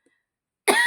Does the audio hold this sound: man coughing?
yes